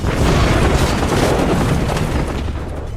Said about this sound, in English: the deadly missile strikes Bismarck's port side on her stern. The violent explosion tears a huge hole in the hull.